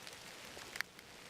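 Rain falls steadily outside a cabin deep in the woods, a soft, faint, even hiss of drops with one small tap standing out, and no voices.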